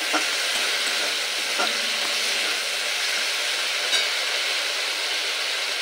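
Spiced vegetable curry with masala being stir-fried in a pan, a continuous close hiss of frying punctuated by a few soft clinks of a spoon against the pan, without any voices.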